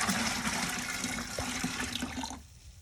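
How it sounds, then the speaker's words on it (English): Excess water left over from mixing clay is dumped out of a container in a steady, rushing gush that pours for a couple of seconds and then abruptly stops. "I'm going to take some of that excess water that I don't need for my next batch of clay and just dump some out here"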